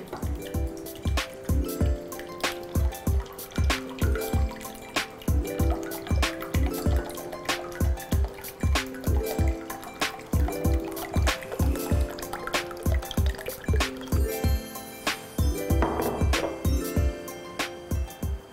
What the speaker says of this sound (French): Maintenant, nous ajoutons de l'eau à la hauteur qui voulait.